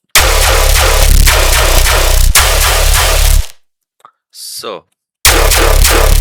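Punchy gunshot-style hits synthesized in Sytrus, routed through a group with a sub, in a rapid, heavy burst, then a short pause with a brief swooping effect before the blasts return.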